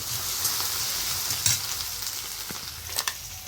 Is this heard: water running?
no